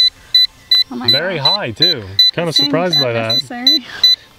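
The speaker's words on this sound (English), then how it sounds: "Sorry about the beeping" Steady, regularly spaced high electronic beeps from a JJRC H55 Tracker GPS camera drone's controller repeat throughout while people talk over them, the beeps clear and close.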